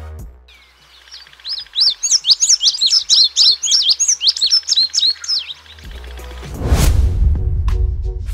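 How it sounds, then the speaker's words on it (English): A masked tanager gives a rapid series of high, sharp chirping notes, close and clear over a quiet background, followed by a brief burst of low rumbling noise near the end. "The masked tanager makes two types of vocalizations and lasts for a few seconds."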